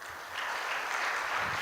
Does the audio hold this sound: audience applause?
yes